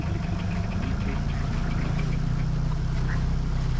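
A car crawls very slowly along a rough, stony road near Falkot in Mansehra, its engine a steady, close, low rumble with a knocking vibration throughout.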